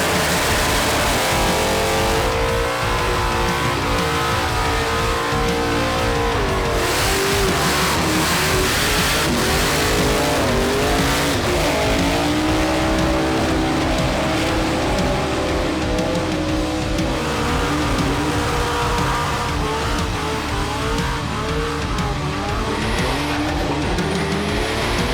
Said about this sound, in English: chuck a skid for the crowd without the pressure of being on the burnout pad